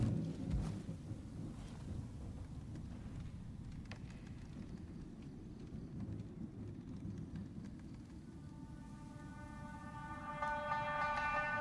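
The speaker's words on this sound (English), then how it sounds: "That thunder was so fucking loud." Loud thunder rumbling through a house during a storm, a deep continuous roll over steady rain, with a sharp crack near the start and building rumble toward the end; no talk.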